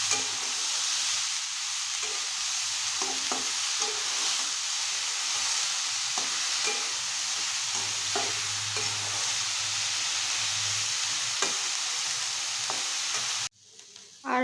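String beans (borboti) frying with shrimp in a pan over low heat, a steady close sizzle broken by repeated scrapes and taps of stirring, ending abruptly near the close.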